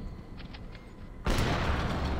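A single sharp, loud AWP sniper rifle shot bursts out in a CS:GO match after a quiet moment, with the crack ringing on to the end.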